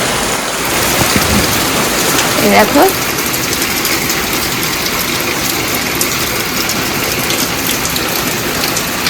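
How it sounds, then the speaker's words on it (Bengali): Heavy rain pours steadily outside after a rooftop visit, a dense, continuous hiss throughout with a brief spoken word near the start. "তা বাইরে তো মারাত্মক জোরসে বৃষ্টি"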